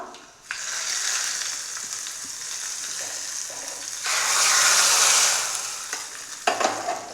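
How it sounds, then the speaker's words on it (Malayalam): Hot fried mustard seed tempering poured into carrot pachadi, heard as a close, continuous sizzling hiss that swells into a louder burst midway, then settles with a few clinks. "അപ്പോൾ നമുക്ക് കടുക് വറുത്തത് പച്ചടിയിലോട്ട് ഒഴിച്ചു കൊടുക്കാം"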